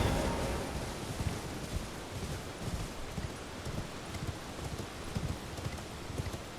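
Horse hooves clip-clop in a steady galloping rhythm as a rider travels on horseback through Elden Ring, the thudding beats continuous and fairly close over a soft rustling ambience.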